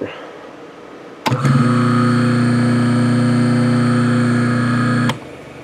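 A three-phase electric motor starts on single-phase power through a run capacitor, switching on abruptly into a loud, steady electrical hum with strong tonal whine for about four seconds, then cutting off sharply.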